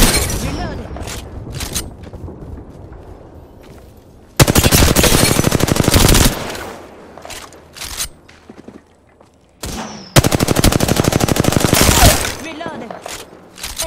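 Automatic gunfire in the battle royale video game Apex Legends, two loud sustained bursts of rapid shots separated by quieter game sounds, thuds and brief voice lines.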